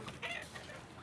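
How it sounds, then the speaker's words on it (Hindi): Chickens on a goat farm cluck softly a few times, a faint, close farmyard sound with no talking. "और यहाँ देखिए हमारी मुर्गियाँ कैसे घूम फिर रही है"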